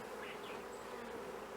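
Bees buzz steadily around an open beehive during honey removal in Fiji, a close, continuous drone with a few individual bees whining past, and no talking.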